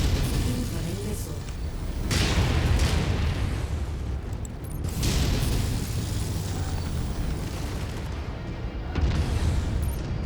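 Missile explosions in the MechWarrior 5 video game, where giant mechs fight: heavy booming blasts rumble one after another through continuous battle noise, loud and close, with sharp bursts near 2, 5 and 9 seconds.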